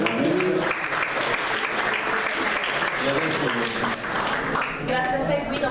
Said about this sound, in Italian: Un applauso anche a Francesca che è una...